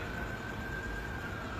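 An ambulance siren passes outside a church service, heard as a steady, faint wail held at one pitch over a broad rushing background, with no voices.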